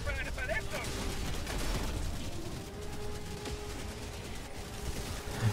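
Gunfire in the video game Helldivers 2, rapid bursts and shots crackling continuously at moderate level, layered with a low mechanical hum and rumble, while players talk over the action.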